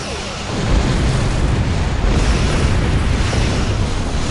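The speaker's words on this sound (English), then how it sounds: "Explosions cause damage." Loud, continuous rumbling explosions and booming blasts from a space battle against Borg vessels in the Star Trek Online game, sustained and dense throughout with no talking.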